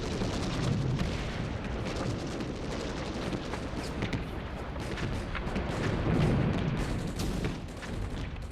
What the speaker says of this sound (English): There was nowhere to hide in fields swept by machine guns and rapid-firing artillery.